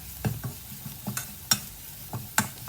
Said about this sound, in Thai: ผัดพริกกระเทียมให้หอมนะครับ